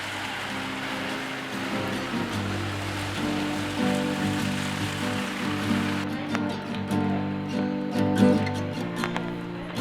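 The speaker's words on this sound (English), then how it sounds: "the monsoon rains came crashing down" Heavy monsoon rain falling in the Himalayan foothills, a dense steady patter under a layer of sustained tonal hum, fairly loud and continuous.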